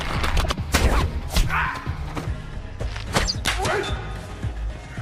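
Gunfire from a homemade gun in an action film fight scene: a rapid series of sharp, loud bangs and thuds mixed with impacts and movement, close and punchy over a busy soundtrack.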